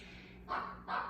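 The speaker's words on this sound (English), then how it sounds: "I need to go let my dog in." A dog barks twice, two loud sharp barks about half a second apart, close by, over a low steady hum in a quiet room.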